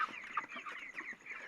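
Chickens on a poultry farm cluck softly and repeatedly, several birds overlapping in a faint, distant-sounding chatter of short calls with no voices over them.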